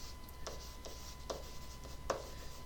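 Writing by hand while noting the element bromine, a few faint separate scratchy pen strokes spaced about half a second apart over a quiet background hum, no talking.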